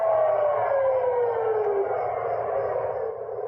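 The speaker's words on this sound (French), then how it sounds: "la sirène retentit." Civil defense air raid siren wailing over Tel Aviv at night, a steady loud tone with a slowly falling pitch, sustained throughout with no talk.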